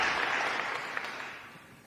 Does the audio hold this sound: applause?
yes